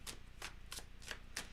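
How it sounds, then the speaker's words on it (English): Quiet, soft riffling bursts of tarot cards being shuffled, about five evenly spaced swishes in quick succession. "I always shuffle"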